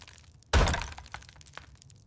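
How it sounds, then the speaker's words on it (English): Window glass behind a shutter cracks and shatters in one loud, sudden crash that rings out and decays over about a second, followed by a few scattered small clinks and knocks in a quiet room. "The glass crack. The window behind the shutter is breaking."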